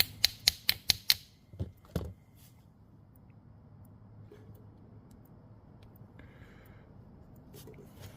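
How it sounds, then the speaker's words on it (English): A screwdriver taps the carburetor of a Stihl 028 AV Super chainsaw: five quick, sharp, evenly spaced metallic taps, then a few scattered knocks, and after that a quiet background with faint handling noises. "Sometimes you can give it a little tap with a screwdriver."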